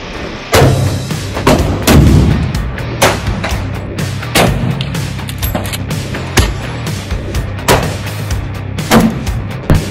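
Hi-Point C9 pistol firing outdoors, a string of sharp, loud gunshots spaced irregularly across the whole stretch, each crack followed by a brief echoing tail.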